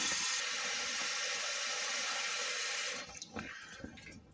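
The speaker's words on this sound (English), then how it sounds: "Basically, we'll just pop that into the pot, cover it up with water." Water pours steadily into a pot over raw chicken in a home kitchen, a loud, even rush that cuts off near the end, leaving a few faint clinks and splashes.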